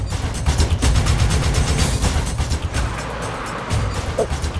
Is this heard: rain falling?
no